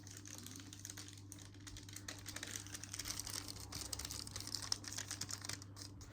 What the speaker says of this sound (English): You're rustling.